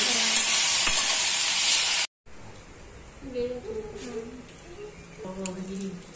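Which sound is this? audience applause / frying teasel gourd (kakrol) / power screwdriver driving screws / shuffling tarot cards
frying teasel gourd (kakrol)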